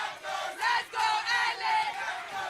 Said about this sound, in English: We hear the fans yelling out here.